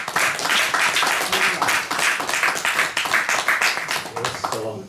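Audience applause for two Portuguese writers at a literary event, dense steady clapping filling the whole stretch and fading slightly near the end, with no voices over it.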